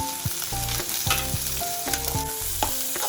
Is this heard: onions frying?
yes